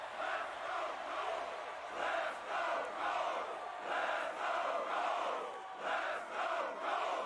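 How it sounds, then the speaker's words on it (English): Crowd at a football game chanting in rhythmic, pulsing waves, distant and fairly faint, rising and falling steadily throughout with no talk over it. "You could hear the crowd chanting."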